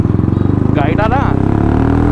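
A motorcycle fitted with off-roading tyres runs close by with a steady, throbbing engine note, while someone talks loudly over it throughout.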